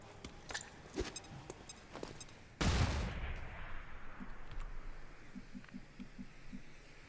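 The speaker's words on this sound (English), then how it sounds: "All right, let's get that flashbang out." A flashbang grenade goes off in the tactical video game XCOM 2: a sudden loud burst hits after earlier faint scattered clicks, followed by a long ringing decay and a few soft pulsing tones, with no talk.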